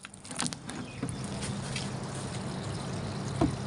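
Water poured from a container onto soil around a young grape plant, two liters in all, giving a steady close splashing trickle with a few louder pattering bursts, no talk.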